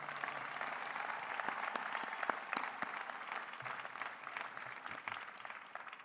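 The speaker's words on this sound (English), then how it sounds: "Could we show our gratitude with a round of applause for them?" A large crowd claps at a university graduate commencement ceremony, sustained dense applause from many hands with a few sharper claps standing out, no voices over it.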